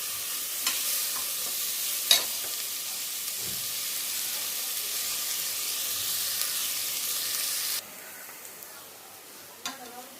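Onions stirred and sautéed in a pan for mint pulao: a steady broadband frying sizzle runs for about eight seconds with occasional spoon scrapes, then drops quieter near the end.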